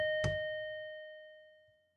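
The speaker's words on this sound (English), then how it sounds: "Who the hell is ringing the bell at this hour?" A single doorbell ring late at night in the video game Haunted Property, one clean chime that rings out and slowly decays over about two seconds in otherwise quiet surroundings.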